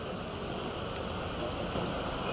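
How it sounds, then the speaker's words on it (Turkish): A heavy rain shower falls in Istanbul: a dense, steady hiss of rain hitting surfaces, loud and continuous, with no voices. "Beklenen sağanak etkisini göstermeye başladı."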